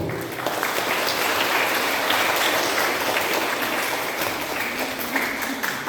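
Sustained applause from a church congregation during an Easter Sunday Mass at a parish church, steady clapping filling the space for about six seconds with a faint voice beneath.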